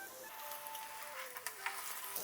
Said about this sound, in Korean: 이 녹두 빈대떡은 어느 정도 센 불로 해야지 이 기름이 안으로 안 스며들거든요.